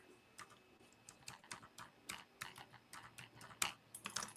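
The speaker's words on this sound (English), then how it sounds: "Let me type it here." Computer keyboard typing indoors, a quiet irregular run of light clicking keystrokes with brief pauses, close but soft.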